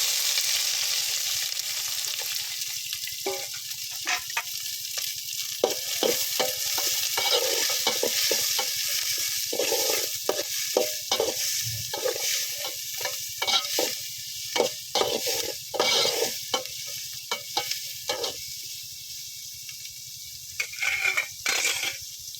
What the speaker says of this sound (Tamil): கருவேப்பிலை சின்ன வெங்காயம் போட்டுக்கோங்க